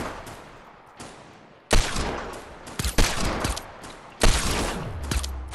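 Sniper gunfire in a Fortnite match: three loud, sharp shots ring out roughly a second apart, each followed by a noisy echoing tail, with a few fainter pops and crackles between them.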